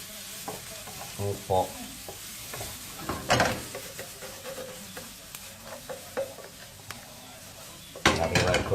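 Chopped onion sizzles softly in a pan for cauliflower risotto, with intermittent spoon stirs and scrapes and a clatter of cookware, a voice speaking briefly over it.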